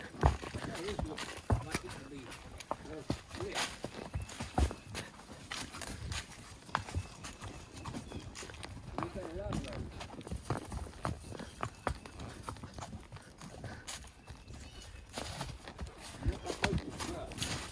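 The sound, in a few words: horse hooves walking on a creek trail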